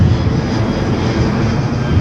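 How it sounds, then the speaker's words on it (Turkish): A propeller airplane passes overhead with a loud, steady droning engine roar that fills the whole stretch, heard outdoors on a road in Antalya. "Tepemizde de uçak var muhtemelen ses geliyor."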